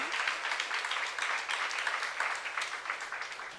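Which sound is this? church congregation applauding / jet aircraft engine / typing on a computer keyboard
church congregation applauding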